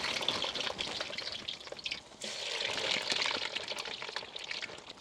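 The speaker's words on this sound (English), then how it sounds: "you need to make sure the oil's hot enough for these chips" Chips sizzle and crackle steadily in hot frying oil, a dense, close hiss that dips briefly before resuming at full strength.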